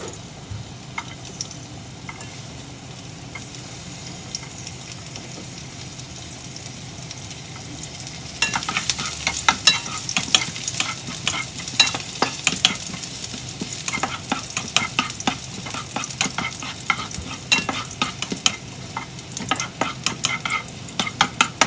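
Garlic sautéing in hot cooking oil for a pasta dish, a steady sizzle that jumps louder partway through, with scraping stir strokes as it is moved around the pan.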